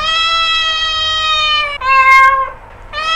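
A cat meows in long, drawn-out cries, close and loud, with a brief higher squeak in the middle and another meow starting at the end.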